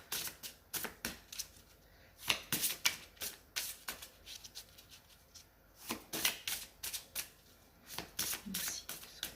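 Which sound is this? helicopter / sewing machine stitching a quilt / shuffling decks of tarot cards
shuffling decks of tarot cards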